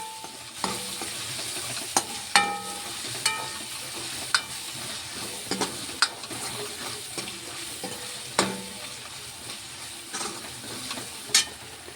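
A potato and paneer vegetable dish fries in a pan with a continuous sizzle, punctuated by sharp, regular scrapes and clinks of a spatula stirring it every second or so.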